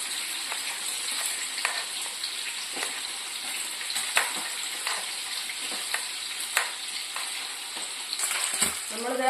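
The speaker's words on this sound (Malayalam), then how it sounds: "നമ്മളിത് മീൻ ഒരു വശം ഫ്രൈ ആയി കഴിഞ്ഞിട്ടോ, ഞാൻ മറിച്ചിട്ട് കൊടുത്തിട്ടുണ്ട്. വേഗം ഫ്രൈ ആവും." Small natholi fish frying in oil in a pan for a Kerala coconut dry fry, giving a steady close sizzle and crackle throughout, with occasional light stirring clinks and no talking.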